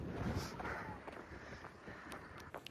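Strong wind buffets the microphone outdoors in open countryside of fields and forests, a rough, continuous rumble with gusty swells.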